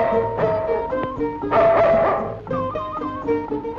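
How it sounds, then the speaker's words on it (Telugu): A dog barks and yips in quick bursts in a Telugu comedy film scene, close and loud, mixed with whimpering tones and a musical background. "కుక్క లారుస్తున్నది"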